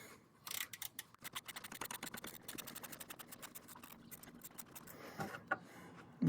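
Ratchet wrench clicking rapidly on the reverse-thread belt tensioner bolt of a 2000-2006 Honda Insight, a dense run of close metallic clicks with a few pauses and a brief clunk near the end.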